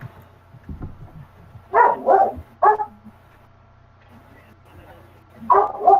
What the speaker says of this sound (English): Am I done being barked at? I hear barking.